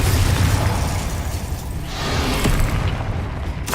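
Repeated Confringo fire-spell blasts in the Hogwarts Legacy video game, a dense run of loud bursts and booms layered over constant low rumbling combat noise, with a sharp crack near the end.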